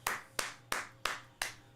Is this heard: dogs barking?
no